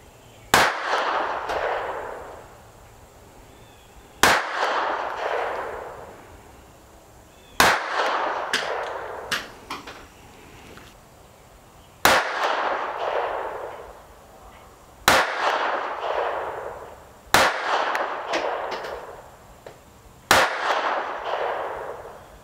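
A Taurus PT22 .22 semi-automatic sub-compact pistol fires seven loud, sharp single shots spaced a few seconds apart. Each crack is followed by a long ringing decay, with no talking between shots.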